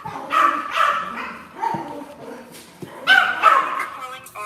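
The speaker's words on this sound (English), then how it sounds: "I'm closing the door on my own fucking dogs because they loud" Several dogs bark and yip loudly in bursts behind a door, with whimpering between volleys and a person talking over them.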